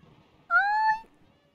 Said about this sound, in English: Did I just meow?